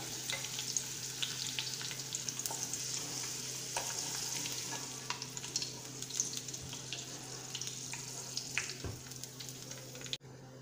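Sliced onions fry in oil toward golden brown for a beef biryani, crackling in a steady sizzle with frequent light stirring clicks and scrapes, fairly quiet and close throughout, then cutting off abruptly at the end.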